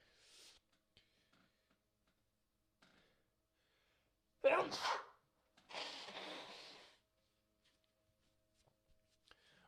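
A single sudden sneeze bursts out close up in a quiet room, followed by a breathy exhale, with faint ticking and rustling around it.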